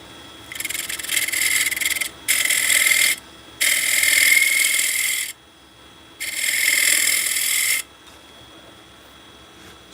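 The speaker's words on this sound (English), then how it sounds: "So that's shear scraping right there." A scraper shear-scraping a spinning wood piece on a woodturning lathe, making four loud, steady rasping passes of about one to two seconds each, separated by short quieter gaps with the lathe humming underneath.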